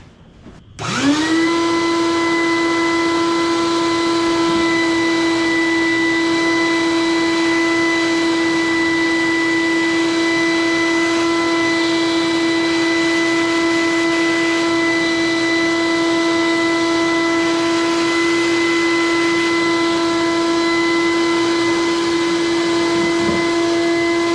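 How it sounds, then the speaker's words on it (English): A vacuum cleaner switches on and runs loud and steady, its high motor whine droning continuously up close without pause, cleaning dirt and grass from a Sears rototiller. "just be the loudest vacuum cleaner I've ever seen."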